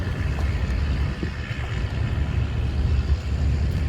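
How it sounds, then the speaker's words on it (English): Steady wind blowing at a riverside in Samut Prakan near Bangkok around sunset, a continuous low rumbling gust noise buffeting the microphone with faint water and boat hints underneath, no talking. "The wind is blowing here."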